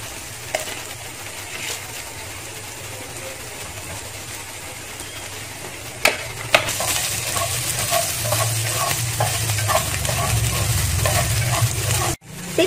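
Vegan beef balls stir-frying in a pan with garlic, shallot, ginger and lemongrass, a steady close sizzle with scraping stirs and a few sharp utensil knocks, no talking.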